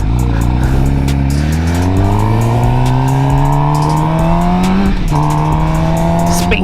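A Suzuki GSX-R750 motorcycle engine revs loud and close, its pitch climbing steadily through several seconds before a brief dip and another rise, with no talking over it.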